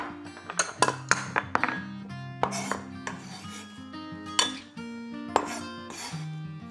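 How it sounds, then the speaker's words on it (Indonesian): An ingredient for Korean kimchi stew is pounded until fine, making a quick series of sharp ringing clanks and knocks, loud and close, with irregular bursts and short pauses. "Tumbuk atau digeprek biar halus."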